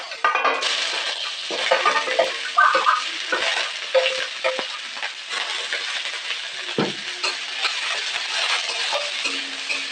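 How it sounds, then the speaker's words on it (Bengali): Chopped onions hit hot oil in a pan and sizzle loudly and steadily, with occasional stirring scrapes and clinks from the pan close by. "তেলটা গরম হয়ে গেছে, দিয়ে দিচ্ছি কেটে রাখা পেঁয়াজ"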